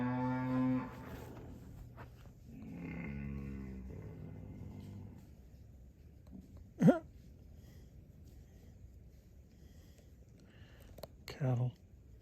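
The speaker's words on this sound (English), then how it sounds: "Cattle." Cattle moo in the open at the Orange Creek North Restoration Area, with a couple of short, distinct calls at a middling distance after some faint talk near the start.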